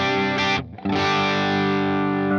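Distorted electric guitar through a Strymon Iridium amp simulator with room ambience turned fully off, dry and upfront with little room reverb; a sustained chord, a brief gap, then another held chord.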